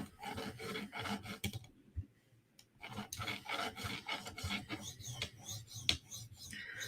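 A knife blade is drawn back and forth across a sharpening stone, giving close, repeated raspy strokes with a brief pause partway through.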